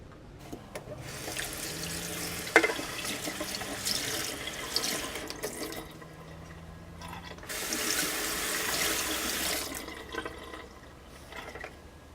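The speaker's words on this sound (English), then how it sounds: "Not too dirty, but we'll give that a rinse." An aquarium filter polishing pad from a Fluval 206 canister filter is rinsed under a running tap, giving a steady hiss of flowing water with splashing surges, fairly quiet and close, no talk.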